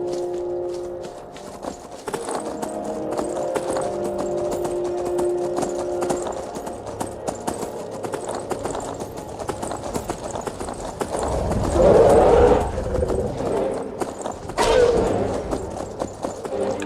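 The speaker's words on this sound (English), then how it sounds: "Ride the horse. Take Mr. Horsey." A horse gallops in a fantasy video game, a fast continuous clip-clop of hooves over a long stretch, with heavier thuds and a surge of motion partway through, mid-distance and steady.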